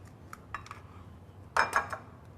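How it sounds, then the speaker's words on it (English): Five eggs cracked one after another against a bowl's edge while mixing apple cider donut batter, producing a few light taps and then a sharper pair of cracks with shell clicks, close and clear in a quiet kitchen. "here I have 5 eggs I'm going to crack into a bowl"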